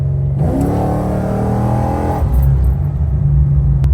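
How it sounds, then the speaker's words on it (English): A Chevrolet Caprice PPV engine revs hard under throttle, rising in pitch for a couple of seconds before dropping back into a deep, steady rumble, loud and close with no talking. "And then I'll jump on the throttle and immediately turn that back to auto mode."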